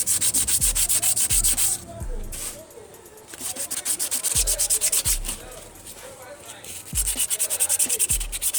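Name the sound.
honing the cylinder of a locked-up AC compressor with soft abrasive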